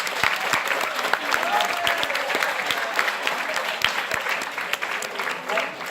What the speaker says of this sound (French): vous pouvez la saluer et largement l'applaudir aussi